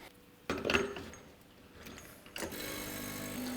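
A Rocket Espresso Giotto espresso machine pulls a shot: a low mechanical pump buzz starts abruptly, eases, then surges again into a steady, moderately loud hum with faint rattling.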